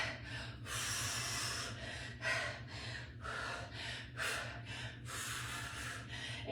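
Heavy, sharp breaths during a full-body EMOM and AMRAP workout with knee drives, a run of forceful gasping inhales and exhales roughly every second, close to the microphone over a low steady hum.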